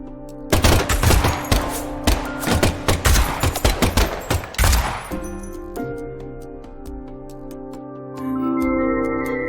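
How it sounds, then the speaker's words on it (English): Rapid bursts of gunfire in the video game Deadly Premonition 2, a dense volley of loud shots over about five seconds, followed by ringing, sustained tones of the game's music or ambience. "the last gunshot we heard sounded ominous, Zack."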